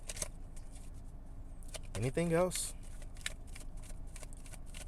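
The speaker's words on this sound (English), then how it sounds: "I'm shuffling through one more time." Tarot cards being shuffled by hand, a brief burst of riffling and sliding near the middle, with a person speaking over faint room noise.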